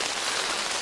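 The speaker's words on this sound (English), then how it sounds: "It's raining. It's cold." Steady rain on a cold day, an even, continuous hiss of drops on surfaces, close and moderately loud, alone without voices.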